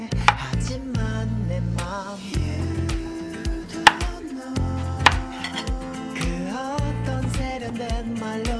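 A knife chops eggplant on a cutting board in a home kitchen, sharp rhythmic thuds repeating at an irregular pace, close and loud, with background music running underneath.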